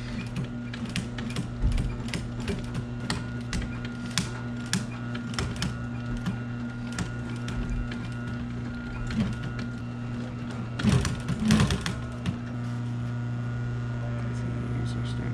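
An industrial sewing machine drives a heavy needle through layers of wood, vinyl and foam for car interior trim panels, giving steady mechanical clatter with a constant motor hum and a louder burst of stitching near the end.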